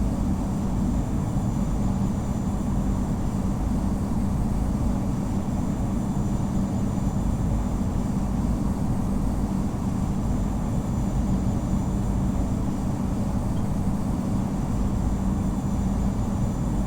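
An E175 airliner taxis in the Infinite Flight game, a steady low engine rumble and broadband hiss that continues unchanged and without talk.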